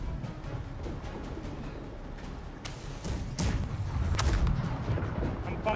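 Ship cannons firing a broadside in Blackwake: a few deep booms and sharp cracks spaced a second or so apart over a constant rumble, the barrage growing heavier toward the end.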